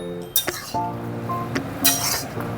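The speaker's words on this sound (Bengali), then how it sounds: "এবার ভালো মতন করে নাড়িয়ে নেব" A spoon stirs mustard-poppy-chili paste into pumpkin greens in a pot, making a few close metallic clinks and soft scrapes against the pot rim amid a faint background hum.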